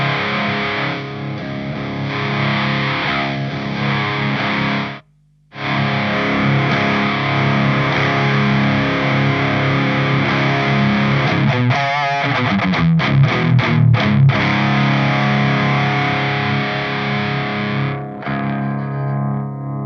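An electric guitar plays through an overdrive pedal, either an MXR Wylde Audio WA44 or a Boss SD-1 Super Overdrive, giving loud, distorted sustained chords with one brief silent gap, choppy muted strums in the middle and then ringing chords again.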